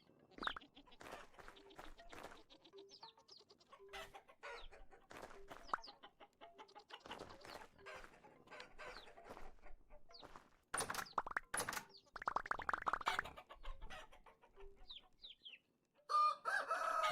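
Rooster and hens in the survival game Vintage Story, a run of repeated clucks and short crowing calls at moderate loudness, with louder bursts near the end and a voice speaking at points in between.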